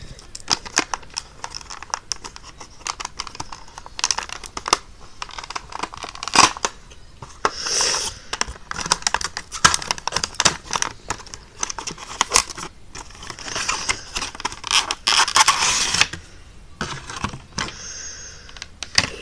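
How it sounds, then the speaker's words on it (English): Tape is peeled from the cardboard box of a Hallmark Christmas ornament, producing close, repeated bursts of ripping, scratching and crinkling noise for about twenty seconds with short pauses. "Get the tape off."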